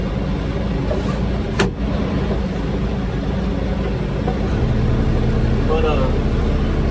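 A tractor idles with its PTO engaged and won't shut off, a steady close, loud low engine drone with a brief clank early on and a mechanical whine near the end.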